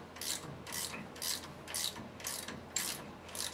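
A ratchet wrench works a front shock absorber nut on a 1957 Chevy 3100 truck, giving six or seven evenly spaced rasping clicking strokes, close and clear with no talking.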